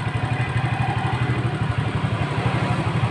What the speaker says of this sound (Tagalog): So pag naka-on po yung ating motor,